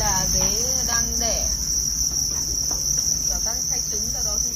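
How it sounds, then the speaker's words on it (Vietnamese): Crickets chirp steadily on a cricket breeding farm where the insects are laying eggs, a dense, continuous high trill with repeated nearby chirps layered over constant background noise, no voices. "Là dế đang đẻ"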